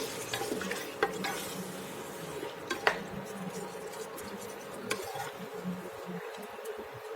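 Mutton being stirred with yogurt in a cooking pot, a steady close scraping and shuffling with a faint sizzle beneath and a few sharp clicks of a spoon against the pot, no voices.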